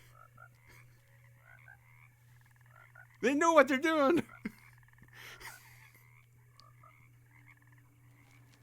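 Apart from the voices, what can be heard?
frog croaking in the video game Alone in the Dark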